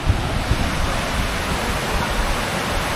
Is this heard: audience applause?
no